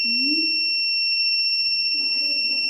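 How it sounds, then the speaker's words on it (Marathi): An electronic buzzer in a robotics circuit sounds a steady, piercing high-pitched tone that runs continuously throughout, close and loud, while someone talks over it. "बझर चालू झाला."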